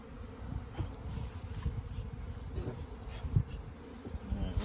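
Honeybees swarm and buzz in a dense, steady drone around an opened hive during a spring build-up inspection, close and continuous with small bumps of handling noise.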